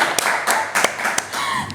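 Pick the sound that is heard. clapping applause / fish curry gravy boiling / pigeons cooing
clapping applause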